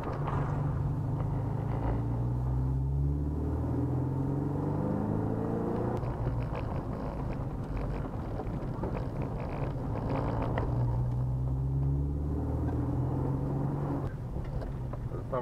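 Engine of a VW Passat B1 classic car heard from inside while driving at the Niederelbe Classics rally in Stade, a steady loud rumble that rises and falls with gear changes, mixed with wind noise.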